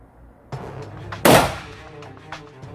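A Beretta pistol fires at a shooting range, one sharp loud crack near the middle, with a couple of fainter knocks and handling sounds around it.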